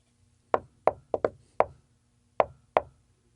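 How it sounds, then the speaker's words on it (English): Seven sharp, close knocks on a hard surface in an uneven rhythm, one quick pair among them, each ringing out briefly into silence. "The knock sounded like this."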